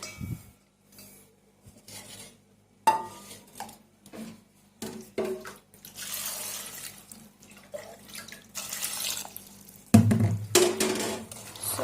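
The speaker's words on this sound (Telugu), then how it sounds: "ముందుగా ఒక బౌల్లోకి ఈ చిక్కుడుకాయని తీసుకుందామండి. సో ఇది వాటర్లో కడిగేసి పెట్టుకోవాలి." Broad bean pods being washed in a bowl of water, with splashing and sloshing in bursts and a louder, rougher stretch near the end, close by and without talk.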